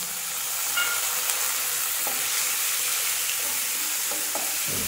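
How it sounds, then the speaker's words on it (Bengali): Onion, garlic, ginger and green chilli paste fries in hot oil with a steady loud sizzle, interrupted by a few soft scrapes of stirring, no voices. "এর মধ্যে দিয়ে দিচ্ছি ওই যে পেঁয়াজ, রসুন, আদা আর কাঁচা লঙ্কার পেস্টটা"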